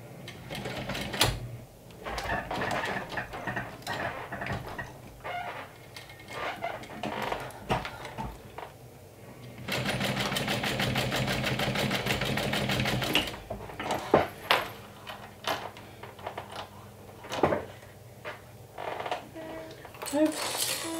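Sewing machine stitching down a folded seam on a crossbody bag, with bursts of rapid mechanical whirring including one long steady run, between clicks, handling knocks and quiet pauses.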